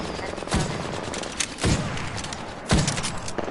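Gunfire in Apex Legends, with a dense stream of rapid shots and sharp louder cracks about once a second, heard close over continuous game noise.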